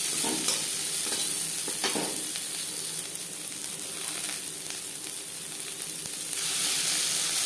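Chopped onion fries in a little mustard oil for a chicken roll filling, a steady close sizzle with scraping stirs throughout and a brief louder surge near the end.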